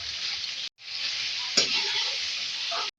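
Frying in a karahi gives a loud, dense, close sizzle that runs almost without break, with one brief stir clatter partway through and two short gaps.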